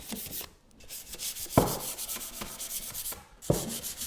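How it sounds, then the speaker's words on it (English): Sandpaper rubs over a painted IKEA stool finished in milk paint, distressing it by hand; quiet, repeated back-and-forth strokes with a couple of sharper scrapes, no talking. "Just distressing my stool, ready for stenciling on."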